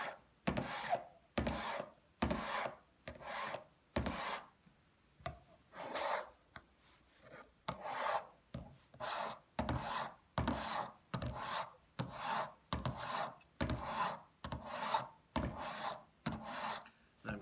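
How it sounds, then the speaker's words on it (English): A hand file beveling the edge of a metal intaglio printmaking plate, held at a constant angle, makes about eighteen steady rasping push strokes in an even rhythm, close up with no voices. "I'm keeping the file at a constant angle. I'm not rolling the file."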